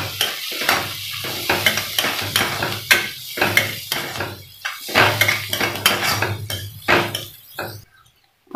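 Fried onion is stirred with turmeric in a pan for a cabbage and chana dal dish, a spoon scraping and clinking against the metal in repeated strokes over a soft sizzle, with brief pauses near the end.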